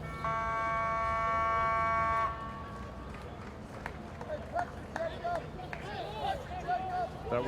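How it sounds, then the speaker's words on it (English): At a boys' high school national championship, a match hooter sounds as a loud steady buzzing tone for about two seconds, then cuts off, leaving crowd hubbub and scattered thuds and voices in a large hall. "That was the Hooter"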